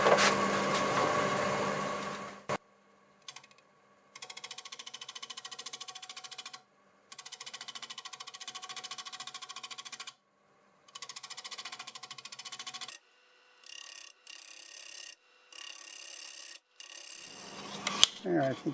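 A 1/2-inch bowl gouge cuts a stacked wood bowl spinning on a wood lathe at about 800 RPM. It makes a steady rasping scrape in bursts of several seconds, with short quiet pauses between passes.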